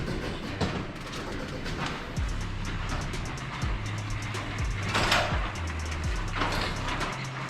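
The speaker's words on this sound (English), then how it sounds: "Gotta use this new garage door opener today." A new garage door opener with no unit on the ceiling raises the garage door, giving a steady mechanical rumble and low hum broken by intermittent clicks and clunks, moderately loud throughout.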